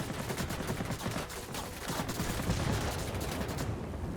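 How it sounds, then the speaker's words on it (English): Rapid machine-gun fire rakes a fighter plane during a World of Warplanes dogfight, a continuous dense stutter of shots that runs for several seconds at steady loudness before ending abruptly. "What am I getting shot by?"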